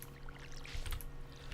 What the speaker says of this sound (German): Und fang an zu gießen